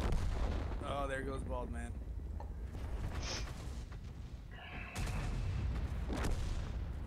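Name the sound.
tank cannon fire in a video game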